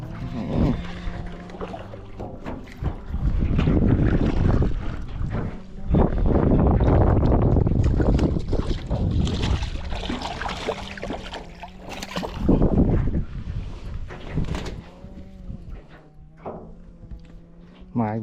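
Strong gusts of wind roar across the microphone in loud, buffeting waves while fishing from a boat for giant snakehead and Hampala barb, easing between bursts, with someone speaking now and then.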